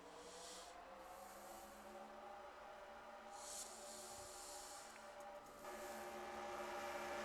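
Race car engines from a NASCAR Xfinity Series video game drone steadily in a continuous, layered roar, with rising pitch bands and the engine noise swelling louder toward the end.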